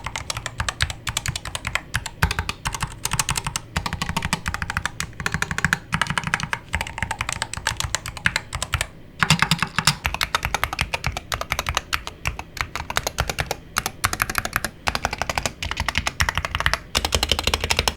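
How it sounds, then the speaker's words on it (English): Steady, continuous typing on an Endgame Gear KB65HE, a premium-build 65% Hall-effect keyboard with Lekker 60 switches, heard close and clear as dense rapid key clacks with brief pauses. "let's go ahead and drop a sound test of what typing on the"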